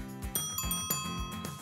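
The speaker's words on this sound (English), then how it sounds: "Look, it's even got a bell." A bicycle bell rings several times in quick succession, bright metallic dings sounding close and fairly quiet during a test ride in Greytown.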